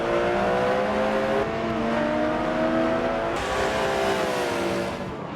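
Porsche Cayman GT4 racing in Forza: a loud, steady, high-revving engine drone that shifts pitch through gear changes, close and continuous for several seconds with no talking.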